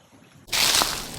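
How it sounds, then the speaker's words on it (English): A small creek waterfall bursts into a steady, close rushing splash after a quiet moment, loud and broadband with no voices. "There's a nice little waterfall, and it actually gets pretty deep right there."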